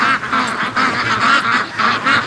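Ducks quack in a farmyard, close and loud, giving about six rapid bursts of raspy, overlapping calls in quick succession.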